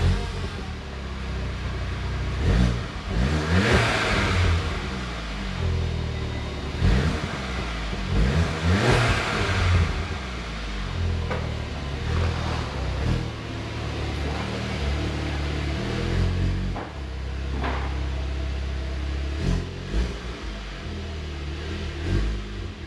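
A 2018 Volkswagen GTI fitted with a CTS aftermarket exhaust is cranked and revved repeatedly, loud and close, with deep rumbling bursts rising and falling over a steady idle.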